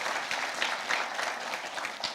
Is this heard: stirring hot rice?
no